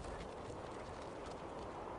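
Hooves of wild horses clip-clop steadily on open Western range, a faint, distant patter running evenly throughout with no voices.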